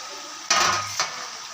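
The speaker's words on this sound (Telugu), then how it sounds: "కొంచెం ఆయిల్లో ఫ్రై అవుతుంది కదా కరివేపాకు ఇలా ఫ్రై చేసుకుందాము" Curry leaves fry in oil in a pan, a short loud crackling sizzle that bursts up and fades, with a second smaller flare soon after and a quiet kitchen background.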